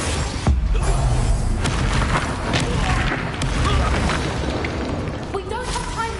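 Booming blasts from the Confringo explosion spell in Hogwarts Legacy, repeated rumbling bursts and crackles over a dense, busy combat soundscape with voices mixed in.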